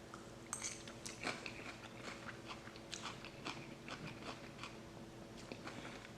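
Crunchy bites and chewing of homemade Caesar salad with croutons, grated cheese and romaine, a series of close, quiet irregular crunches over several seconds.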